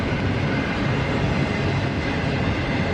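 A CSX freight train rumbles steadily past at close range, a continuous broadband roar with faint rhythmic clatter and no voices.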